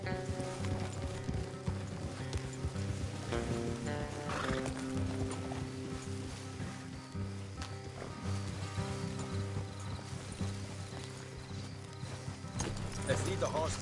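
Horses neigh and whinny while hooves clip-clop along a trail in Red Dead Redemption 2, with character dialogue running over the animal sounds throughout.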